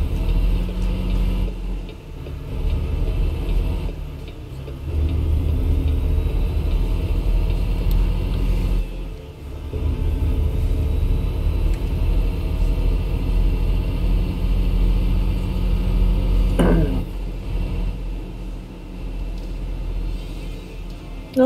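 Truck engine in American Truck Simulator, a steady low rumble that drops and surges as it downshifts through several gear changes, with brief dips between shifts.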